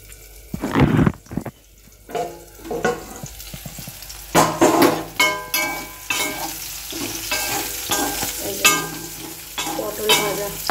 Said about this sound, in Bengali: পটল ভাজা